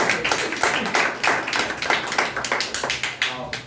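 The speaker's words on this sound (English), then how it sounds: "clap for Kunal" A small classroom group claps for a student, a few pairs of hands giving quick, uneven, closely spaced claps, near and fairly loud.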